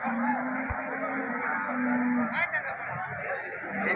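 Malaiyan breed cattle low and moo at the Erode cattle market. A couple of drawn-out calls rise over the crowded, noisy market background while someone talks nearby.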